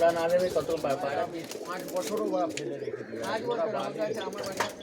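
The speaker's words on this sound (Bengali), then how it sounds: "রিন্টু দা পায়রা জোড়া করে দিল" Domestic pigeons coo in a low, rolling rhythm close by, overlapping one another with soft chirps, while people talk throughout.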